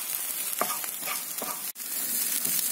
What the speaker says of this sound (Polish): Jeszcze zaraz dorzucimy cebulkę, która już tam się tu podsmaża.